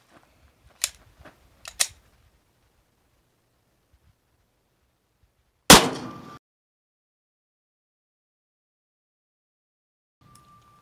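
A 9mm Super Vel 115gr +P hollow-point round is fired into a ballistic gel block, a single sharp, loud gunshot with a short decaying ring, preceded by a few small metallic clicks and followed by quiet.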